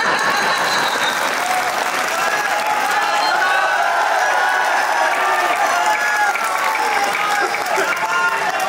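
Sustained, dense applause from a live audience at a Hindi kavi sammelan (poetry recital) organised by a journalists' council in Paota, steady and loud throughout with some crowd noise mixed in.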